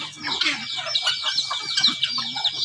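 A busy flock of chickens clucking and squawking continuously, many birds overlapping nearby with no pauses.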